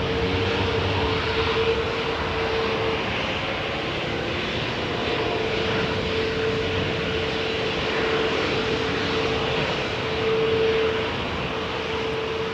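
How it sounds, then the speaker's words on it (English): An Air Canada Airbus A330 jet in Star Alliance livery departs Toronto Pearson, its engines producing a continuous, heavy roar with a faint steady tone running through it, loud and sustained from start to finish. "you will see the Star Alliance A330, Air Canada 816, which is heading to Venice"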